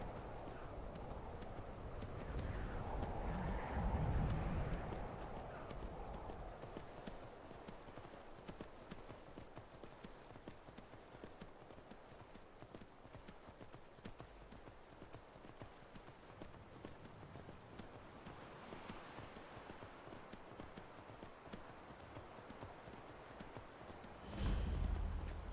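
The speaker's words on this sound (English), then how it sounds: "Horses in this game are so slow." A horse gallops in the video game Skyrim, its hooves beating a steady, continuous clip-clop that swells slightly louder near the start and again at the very end.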